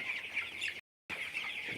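Broiler chickens clucking and murmuring as a flock on a poultry farm, briefly cut off by a moment of silence before resuming.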